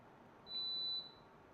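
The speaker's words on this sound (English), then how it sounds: "Sorry about the beeping." A single steady high-pitched electronic beep sounds for about half a second against a quiet kitchen background.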